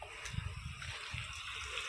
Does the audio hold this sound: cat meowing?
no